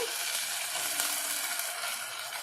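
Ginger-garlic paste frying in a pan gives a steady, even sizzle that holds close and constant, with no talk over it.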